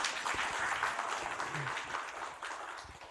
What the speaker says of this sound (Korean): 가장 멀리에서 오신 익산에서 오신 분에 의해서 박수 한번 치겠습니다